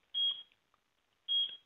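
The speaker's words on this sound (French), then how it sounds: "je vais déclencher une alarme" A Ksenia lares 4.0 security alarm system, triggered by a perimeter detector, gives two separate high electronic beeps roughly a second apart, clear and alone in a quiet room.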